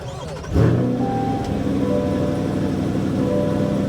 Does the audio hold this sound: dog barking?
no